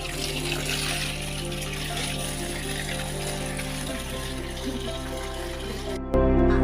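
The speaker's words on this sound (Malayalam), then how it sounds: "എന്നിട്ട് നമ്മൾ ഇതിനകത്ത് വെള്ളം വെച്ചോ" Steady rushing of water filling a pool runs throughout, a continuous gushing flow with a low motor-like hum beneath, growing louder near the end.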